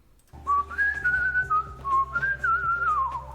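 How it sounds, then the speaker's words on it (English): A person whistles a wavering, continuous melody up close, clear and fairly loud, with no talking. "Wait, I whistle a lot?"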